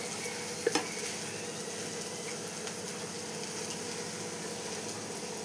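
Okra (bhindi) stir-fries in a pan with a constant, even hiss of oil, marked by a few soft clicks from a stirring spoon near the start.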